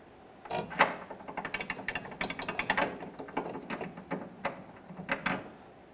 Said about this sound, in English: You can now get on it with an impact. And remove that bolt.